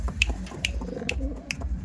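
Kaldom pigeons make soft, low cooing close by, with several sharp clicks spaced at regular intervals over a quiet background.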